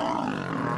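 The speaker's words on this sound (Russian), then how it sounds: "Крики львицы полные боли." A lioness in pain lets out a short, loud, rough cry, close and harsh, as lions from a neighbouring pride attack her in the swamp.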